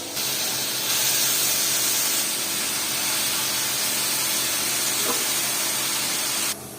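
Bathua greens go into a hot pan with small cut potato pieces, producing a loud, continuous hissing sizzle close by that holds steady and then cuts off abruptly near the end.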